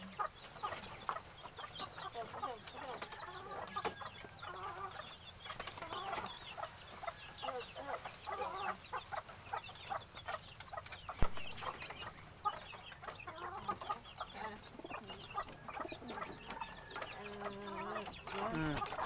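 Chickens cluck and chatter continuously, several birds close together, with a busy, steady rustle of clucks throughout.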